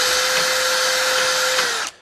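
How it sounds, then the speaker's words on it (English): A small 7/8-inch sanding barrel spun by a power tool smooths a rusted pivot bushing on a Willys, a loud steady high whine with a constant tone, running for nearly two seconds before cutting off abruptly. "Then use a little sanding barrel sander,"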